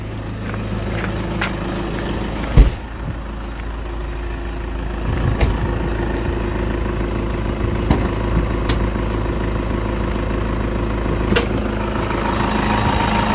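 A 2008 Toyota Kijang Innova diesel with automatic transmission idles steadily with a low, even rumble in an open engine bay. Occasional clicks and a brief knock are heard, and it stays close and continuous throughout with no talking.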